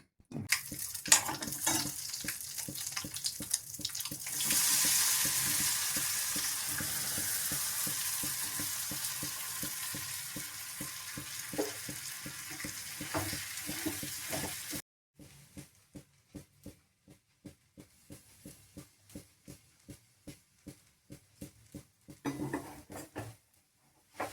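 Dal mixture and banana flower sautéed in a pan for paruppu usili: a loud, steady sizzle over the first half, then softer sizzling broken by regular scraping and stirring strokes of a spoon against the pan.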